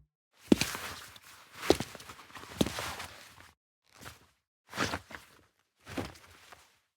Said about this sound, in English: Now let's add some Foley sounds to the character, things like footsteps and clothing rustling around when he moves.